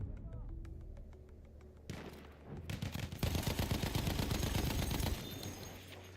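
Machine gun fire in the Battlefield 1 video game, rapid automatic bursts that build into a loud sustained rattle after a quieter start, with voices talking over the combat.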